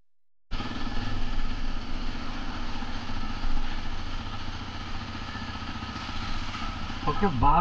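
Motorcycle engines idle and rumble steadily at a busy service centre where bikes wait for their first service, a continuous close engine drone with some clatter near the end and no clear talk.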